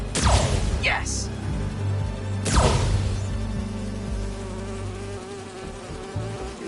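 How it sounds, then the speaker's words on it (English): Bees buzz in the Spider-Man 2 video game, a loud, close insect drone with sharp whooshing swells as they fly past, under game sound and some voices. "You're not gonna mess with my bees."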